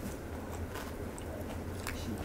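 Crisp biting and chewing of crackly roasted German-style pork knuckle skin, close to the mic, in a steady run of crunchy bites over a low constant background hum.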